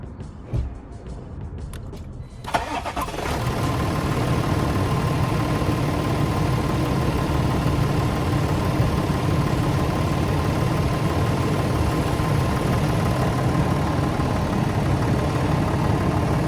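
A Renault, Land Rover or Alfa Romeo Giulietta engine settles into a steady idle just after starting during a battery cranking test. A short quieter stretch comes first, then a constant, near engine drone runs to the end with no talk.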